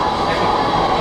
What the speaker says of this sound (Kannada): ಇಲ್ಲಿ ಟ್ರೈನ್ ನೋಡಿ ಅಮ್ಮ